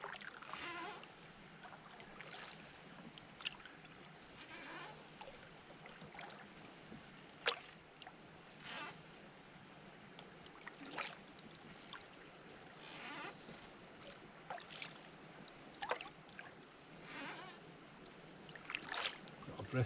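A paddle dips and pulls through calm water on a snowy Glen Affric loch, with soft trickles and splashes at an irregular rhythm, close by and fairly quiet, against a faint outdoor hush.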